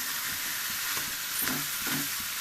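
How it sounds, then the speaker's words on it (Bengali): Banana stem curry with papaya frying in a pan, a steady dense sizzle with soft stirring sounds underneath, close and even throughout, with no voices. "এইভাবে ভাজতে ভাজতে হয়ে যাবে তরকারিটা"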